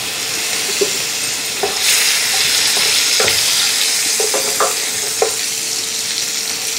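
Eggs frying in hot oil with turmeric, chili powder, salt and garam masala while being stirred, giving a steady loud sizzle broken by scattered clicks and scrapes of the spoon, with no talking.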